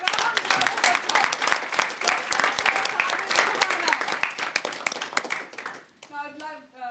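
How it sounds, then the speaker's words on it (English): A Toastmasters club audience claps together in a sustained round of applause, dense and steady, fading near the end as a voice begins speaking. "Give him a big round of applause."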